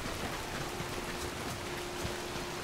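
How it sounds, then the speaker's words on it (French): Steady rainfall in the survival game Soulmask, a dense even hiss of drops on surfaces with a faint continuous hum underneath, no voices. "le sound design de la pluie est super réussi"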